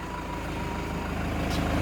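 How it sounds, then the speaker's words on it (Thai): A 2016 automatic van's engine idles steadily just after starting, a smooth, even low rumble with a faint rhythmic pulse and no voices. "ฟังเสียงเครื่องยนต์กันหน่อยนะคะ"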